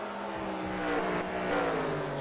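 A race car at the Bristol short-track oval in an online Freedom Series race sweeps past, its engine note rising and swelling to a close peak and then easing slightly, loud and with no talk over it.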